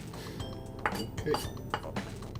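A spoon stirs fish curry with onions, curry leaves and coconut milk in a pot, making a few soft clinks and scrapes against the metal in a quiet kitchen.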